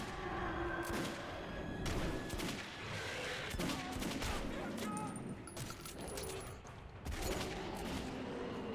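Gunfire in the video game Metro 2033 Redux, a series of sharp shots and bursts scattered over the stretch, mixed with game effects and a voice talking.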